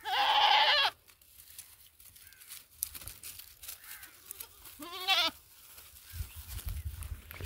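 Mountain goats bleat in a farm or livestock-market setting, one loud close bleat at the start and another quavering call midway, with scattered rustling and low background noise between.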